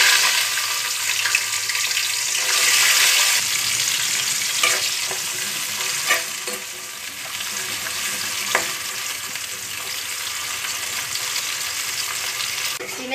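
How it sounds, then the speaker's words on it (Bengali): Bean seeds frying in hot oil give a loud, close, hissing sizzle, strongest at the start and then settling into a steady crackle, broken by a few sharp stirring taps. "এখন সিমের বিচিগুলো ভেজে নেব।"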